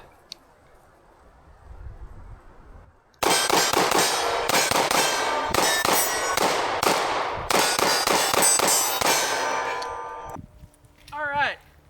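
Rapid string of pistol shots from a Sig P365 Legion with a compensator, fired from a magazine after a burial test, loud and close in quick succession, followed by a brief voice.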